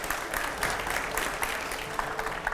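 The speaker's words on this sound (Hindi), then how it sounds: "आप एक बार सबके लिए जोरदार तालियां बजाना चाहता हूं" Studio audience claps for panel guests on a TV program, a fairly soft, brief burst of dense applause with individual claps audible.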